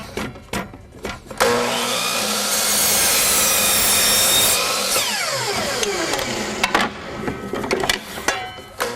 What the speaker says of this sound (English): I'm just going to cut the groove out of the bottom of this, and it's 6 inches, so my saw easily cuts it